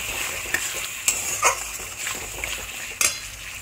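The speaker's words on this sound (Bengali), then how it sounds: "অল্প অল্প জল দেবো আর কষাবো" Spice paste for a koi fish curry is stir-fried with small splashes of water, a faint ongoing sizzle broken by several sharp clinks and scrapes of a spatula against the pan, no talking.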